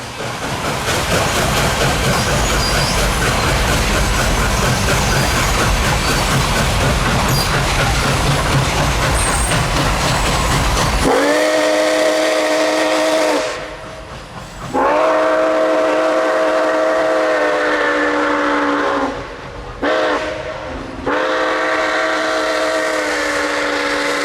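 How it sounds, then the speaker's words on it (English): Nickel Plate Road 765 steam locomotive on an excursion in Ohio, loud and close: a rumbling, chugging run gives way to a long, sustained chime whistle, cut by two brief breaks before sounding again. "enjoy Tri-State Steam with Nickel Plate Road number 765"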